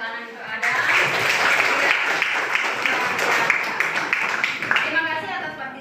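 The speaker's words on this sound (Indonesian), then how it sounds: "Terima kasih tepuk tangan untuk Ada." Students in a classroom applaud a classmate, a burst of close clapping that starts abruptly, stays fairly steady, then fades out near the end.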